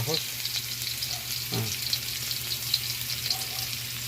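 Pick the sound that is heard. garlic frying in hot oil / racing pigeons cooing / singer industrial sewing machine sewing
garlic frying in hot oil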